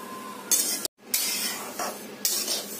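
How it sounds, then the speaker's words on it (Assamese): Sesame seeds roasting in a pan are stirred with quick scraping strokes over a light dry sizzle, close and fairly loud, broken by a brief silent gap. "এতিয়া মই তিলৰ পিঠা বনাবৰ কাৰণে এই তিলখিনি ভাজিছো"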